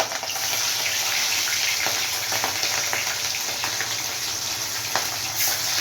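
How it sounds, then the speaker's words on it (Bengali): Rohu fish frying in oil, a loud, dense, continuous sizzle and crackle with occasional sharper pops, steady from start to finish. "এই যে বন্ধুরা দেখছেন, রুই মাছটা ভাজছি তেলে।"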